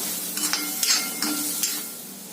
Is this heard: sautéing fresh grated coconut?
yes